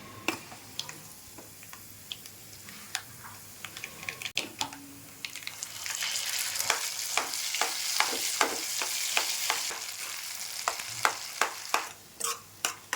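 Potatoes frying in oil with peanuts, dal and curry leaves, a steady sizzle that swells midway, with many sharp rhythmic scrapes and clicks of a ladle stirring against the pan.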